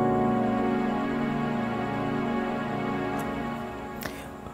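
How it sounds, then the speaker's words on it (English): A single sustained piano chord, a dominant 7 sharp 9 sharp 5, rings out with dense, tense harmony and slowly decays, followed by a couple of faint clicks near the end. "the dominant 7, sharp 9, sharp 5 on the 3."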